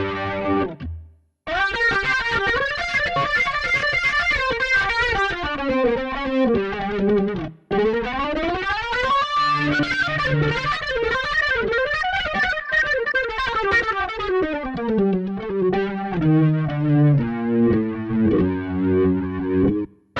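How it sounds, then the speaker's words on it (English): A Roland GR-55 guitar synthesizer plays a rock lead organ patch with a gritty 70s organ character: continuous sustained lead lines, bends and chords, loud and distorted, with no voices. "The first one I want to show you is like a rock lead type organ."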